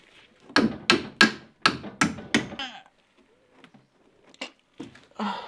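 Several sharp hammer blows ring out in a quick series on wooden ceiling boards during room construction, followed by quieter knocks and handling noises after a pause.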